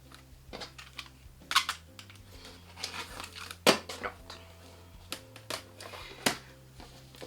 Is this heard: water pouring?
no